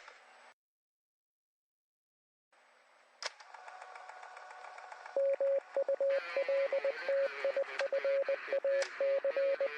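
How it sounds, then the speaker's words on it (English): Morse code beeps from an online alternate reality game teaser play as a steady series of short and long electronic tones, preceded by quieter static-like hiss and a brief silence. "Morse code!"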